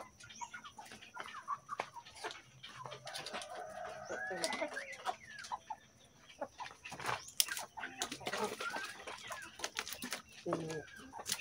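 Hens on a backyard poultry setup cluck in short, scattered bursts near and far, with occasional louder squawks over a faint background of rustling and quiet activity.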